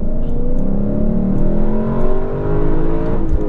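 A 2023 Lexus LC500 V8 coupe accelerates at full throttle, its engine note climbing steadily through the revs, loud and close from inside the cabin with a dense rumbling drone and no talking.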